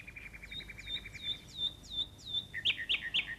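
Nightingales singing in the treetops, rapid repeated chirps followed by a run of rising whistled notes and then brighter trills, fairly faint with no talk.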